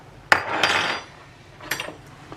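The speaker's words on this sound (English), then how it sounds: "let's just take the onion and cut it in half." A knife cuts an onion in half on a board, with a sharp tap as the blade strikes, a brief crunchy slice, then a second lighter knock and rustle.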